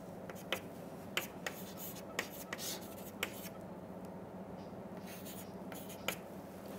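Handwriting equations: a pen or chalk scratching and tapping in short strokes with distinct ticks every second or so, close and steady, with no voices.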